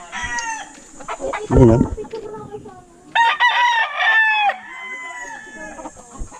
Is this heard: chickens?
yes